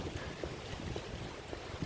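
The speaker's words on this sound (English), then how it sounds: "I was worried that the audio may be messed up because of the wind." Steady low rumbling wind buffets the microphone, a constant broadband roar with no voices.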